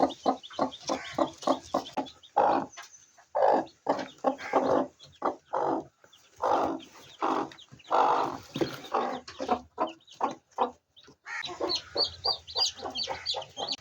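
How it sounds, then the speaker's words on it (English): Newly hatching native chicks chirp in a close, steady series of sharp, high peeps, repeating rhythmically for over ten seconds with brief pauses and no talking. "One by one, the chicks began breaking their way out."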